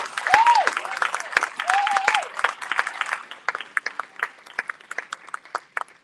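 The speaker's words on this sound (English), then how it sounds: "If you applaud really loud, maybe he won't be so nervous." An audience applauds loudly and cheers for a shy man being introduced at a Houston feature event, with whoops over dense clapping at first that thins into scattered individual claps.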